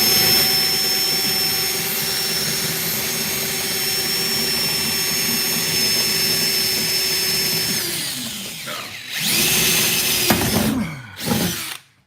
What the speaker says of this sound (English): what I do is I grind the rivet off for the most part